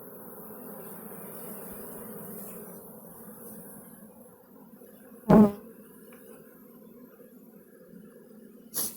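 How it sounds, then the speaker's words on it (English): A swarm of honey bees drifts into a hive after their queen out in a field, a steady low insect drone holding throughout with a brief sharp thump partway and another at the end. "Now all these bees here, they're going to go right in there and follow her"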